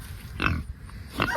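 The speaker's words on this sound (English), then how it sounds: "Because Boris is a very frisky pig." A frisky boar grunts twice in quick succession, close and moderately loud, with short breathy snorts about a second apart.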